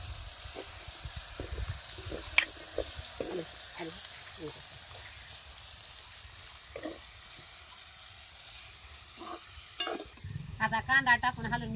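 Onion frying in a pan with a soft sizzle and intermittent scraping stirs, then a louder burst of clinks and stirring at the end.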